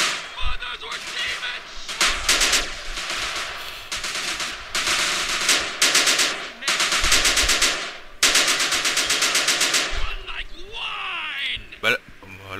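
Rapid automatic gunfire from GTA San Andreas rattles in several loud, sustained bursts of a second or so each, separated by brief pauses, with a voice speaking between and over the shots.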